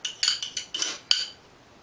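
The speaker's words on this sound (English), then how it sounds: "I'm gonna scoop the butter in there" Metal spoon clinks against a pan while butter is scooped in on the stove, with about six sharp, bright taps in quick succession, then quiet. No one talks.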